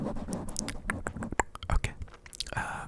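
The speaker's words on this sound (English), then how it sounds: "I don't think I like the sound of me rubbing on this windscreen that much." Close, crackly rubbing and scratching on a foam microphone windscreen, irregular brushing bursts heard up close with no talking.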